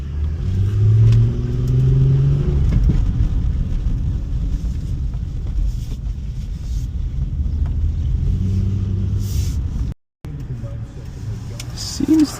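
A Range Rover P38 engine on a test drive, a loud steady in-cabin rumble with some revving as the car pulls away, cutting out briefly near the end, while people talk over it.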